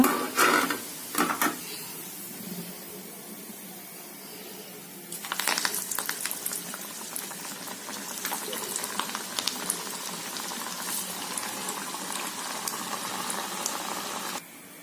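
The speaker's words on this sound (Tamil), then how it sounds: "மீதி இதே மாதிரி பொரிச்சுக்கலாங்க" Coconut vadai deep-fry in hot oil with a steady, close bubbling and crackle that lasts about ten seconds. A few clattering knocks of a utensil against the pan come first, with no talking.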